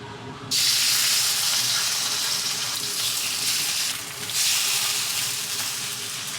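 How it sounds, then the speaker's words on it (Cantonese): Strips of beef fillet fry in a hot pan, giving a loud, steady broadband sizzle that starts after half a second and carries on, swelling again near the end, with no talking. "首先咧就將啲牛柳啦煎香佢。"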